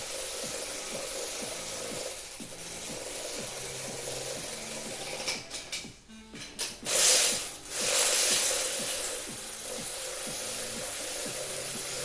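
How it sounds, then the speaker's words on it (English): An electric ratchet runs during a forged Subaru WRX engine build, its fast clicking whir coming in repeated short bursts at close range, with a brief louder mechanical clatter partway through. "electric ratchet."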